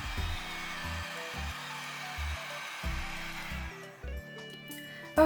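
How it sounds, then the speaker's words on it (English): A heat gun blows steadily over epoxy resin coaster molds to blend colour into clear resin, a continuous close whooshing hum with a faint pulsing low tone, ending with a brief clunk. "with my heat gun, I'm going to blend the color a little bit into the clear"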